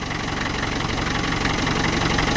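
A Land Rover engine idles steadily nearby, a loud, constant rumbling throb with an even rhythmic knock and no talking.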